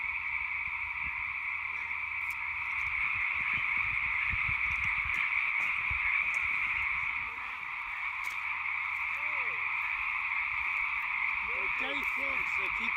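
Frogs croak repeatedly beside a hiking trail on Mt. Burdell, their calls layered over a steady high insect-like drone, with people talking quietly in between.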